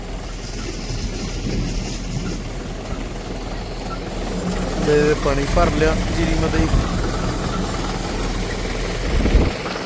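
A tractor engine runs steadily and close on a paddy farm where spraying work is underway, a continuous low rumble beneath ongoing conversation.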